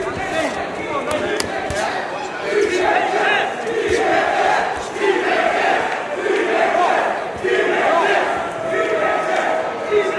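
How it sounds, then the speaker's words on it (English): A crowd at a boxing match between Hamzah Sheeraz and Butkevicius cheers and shouts in rolling waves, with a broad, roaring texture that swells and fades every second or so. "Bit of random cheering."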